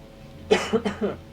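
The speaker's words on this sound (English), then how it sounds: "Sorry about coughing into the mic." Three short, sharp coughs close to the microphone, one after another in quick succession.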